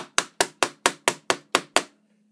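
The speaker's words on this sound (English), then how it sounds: "So next I can just kind of tap that on. And you just keep going until it stops." Nine sharp, evenly spaced taps as a dust collection pipe coupling is knocked into place, each a crisp close strike with a short decay, then a brief quiet ring at the end.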